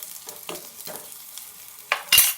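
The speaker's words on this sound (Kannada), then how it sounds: "ಇದೆಲ್ಲ ಎಣ್ಣೆಯಲ್ಲಿ ಫ್ರೈ ಆಗಿದೆ." Green chillies frying in hot oil in a pan for a chilli gravy, with soft stirring scrapes and a louder burst of sizzling near the end, close by and with no talk.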